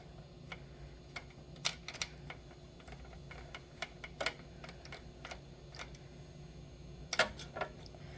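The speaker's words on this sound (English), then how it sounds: "take the socket off of the ratchet and spin it like this" Hand-spun socket unscrewing a small engine bolt, heard as a string of light, irregular metallic clicks and ticks, close and quiet, with a few sharper taps, and no talking.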